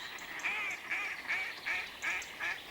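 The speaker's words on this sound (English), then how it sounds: "Paddling away on the water's surface is a mallard duck." A mallard duck calls on a moorland lake in the Vosges mountains of France, giving about six close, nasal calls at a steady, evenly spaced rhythm.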